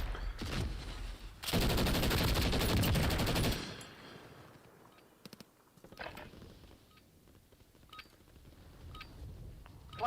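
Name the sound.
pistol gunfire in the video game Warzone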